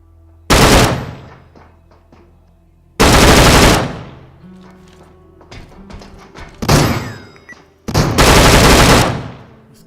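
Loud shotgun blasts in the video game Deadside, four heavy booming shots a couple of seconds apart, each with a long rumbling decay, plus fainter clicks and handling noises between them.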